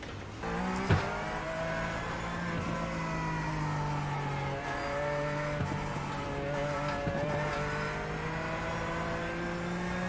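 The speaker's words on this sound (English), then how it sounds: "we're running the Porsche GT3 Cup car at Nürburgring" Porsche GT3 Cup car lapping the Nürburgring in a racing simulator game, a steady engine drone with shifting pitch and brief tyre and gear noises throughout, continuous and moderately loud with no talking.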